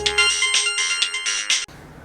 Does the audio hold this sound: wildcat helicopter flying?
no